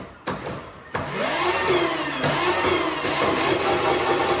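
A cheap homemade electric quad's motor starts as the throttle is twisted, rising into a steady loud whirring drone with a faint pitch sweep, running continuously without talk after a couple of clicks at the start.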